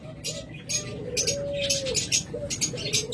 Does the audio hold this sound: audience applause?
no